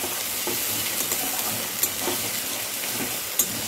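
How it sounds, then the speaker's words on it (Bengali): Spices and garlic paste sizzle in a pan over a low flame for rui macher kalia, with a steady frying hiss and soft scraping stir strokes close by. "একটা লো ফ্লেমে রেখে ভালো করে এগুলো মিক্স করে নিলাম"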